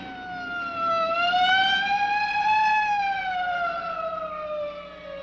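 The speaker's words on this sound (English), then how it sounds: "Hey, a police car." A police car siren wails in a single long rising and falling tone. It is loud and fairly close, then fades slightly toward the end, and no voices are heard.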